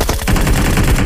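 Gunfire in PUBG Mobile on the Miramar map, a headshot landing amid a loud, dense burst of shots that fills the short moment with no talk over it.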